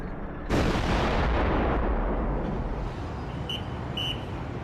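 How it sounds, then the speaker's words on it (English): Artillery fire in desert warfare: a sudden loud, sharp blast that rolls on into a long, broad rumbling roar, with faint high metallic tones near the end. "He orders his artillery to make the earth shake."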